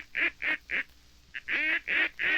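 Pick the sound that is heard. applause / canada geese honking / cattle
canada geese honking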